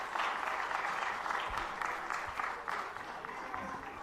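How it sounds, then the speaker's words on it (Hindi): An audience claps steadily in welcome for an enthusiastic guest at a Hindi spiritual Q&A gathering, dense sustained applause filling the room throughout with a few louder claps near the front. "तालियों के साथ स्वागत कर दीजिएगा।"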